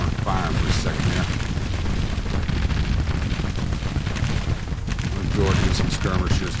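Civil War artillery booming in the strategy game Grand Tactician: The Civil War, a dense, continuous rumble of cannon fire and bursts layered together, with voices talking over the din.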